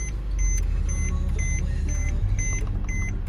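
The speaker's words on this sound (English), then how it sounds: "So let me turn the hazards on." Regular soft clicks of the hazard lights tick in a steady rhythm over a low idling engine rumble inside a Mercedes-Benz C300 W204, close by and fairly quiet.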